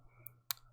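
Computer mouse clicks during work in a car simulation program, a soft tick early on and one sharper click near the end, close and quiet over a low steady hum.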